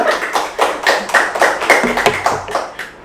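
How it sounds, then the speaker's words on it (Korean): Audience applause at a Korean study-abroad information session, a short burst of rhythmic handclapping from a small group lasting about three seconds and fading near the end. "칭찬 박수를 한번 부탁을 드릴게요."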